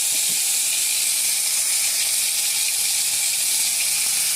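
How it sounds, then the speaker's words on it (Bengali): Whole spices and cumin seeds sizzling in hot oil for a fish curry, a steady dense hiss that runs close and loud without a break. "তো এটাতে দিয়ে দেবো এখন এক এক করে সব মশলা"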